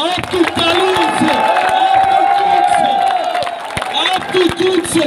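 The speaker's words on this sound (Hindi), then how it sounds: "अभी अभी जरा तालियों की गूंजों को इजाफा कीजिएगा" A crowd at a rally outside Karachi Press Club cheers and claps loudly and continuously, with whoops rising above a dense wash of applause and a voice heard over it.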